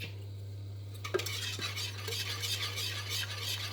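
Béchamel sauce stirred in a pot, with a soft, steady scraping swirl and a few light clinks of the utensil against the pot, close up, over a constant low electrical hum.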